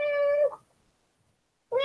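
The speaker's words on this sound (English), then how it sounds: "My cat is with me, okay." A house cat meows twice, close and clear: one long drawn-out call, a silent pause, then the start of another.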